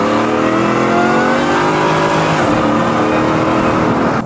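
A supercharged car engine revs hard before a supercharger whine mod, a loud, close, continuous roar with rising and falling pitch as the throttle climbs and eases.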